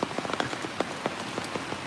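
Steady rain pattering on a surface during outdoor fish grilling in the Philippines, with dense close drops and sharper individual splats scattered throughout, no voices.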